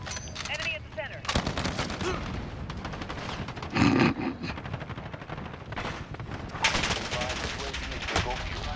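Gunfire in Call of Duty: Modern Warfare multiplayer, rapid automatic bursts and single shots crackling loudly in clusters, with a heavier blast near the middle and a player talking over the action.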